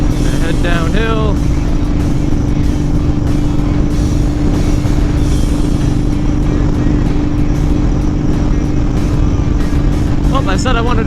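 A Honda Fury motorcycle fitted with a Cobra Speedster exhaust and Powerflo air cleaner cruises on the freeway, with a steady engine drone under constant wind rush throughout and a rider's voice talking over it.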